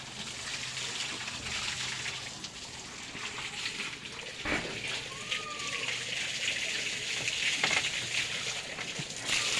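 Water splashed over cattle one by one, wetting their bodies before scrubbing outdoors in strong sun, with a continuous rushing and splashing wash and a few sharper slaps, faint voices in the background.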